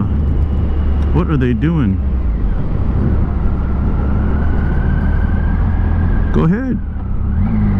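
A Can-Am off-road vehicle engine hums steadily close up, its drone rising slightly mid-stretch, while voices speak briefly near the start and end.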